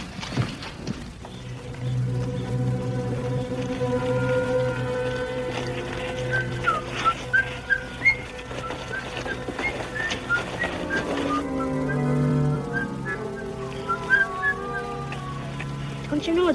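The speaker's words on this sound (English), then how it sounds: "Don't you know it's bad luck to whistle in a ghost town?" A person whistles a wavering tune in a deserted Old West ghost town in a 1950s Western TV episode, the melody carried over steady background music with no talk.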